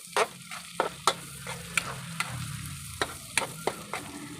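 Onions sautéing in a pan while being stirred, cooked before adding bagoong, with a soft continuous sizzle broken by a series of sharp, irregular spatula scrapes and clacks against the pan.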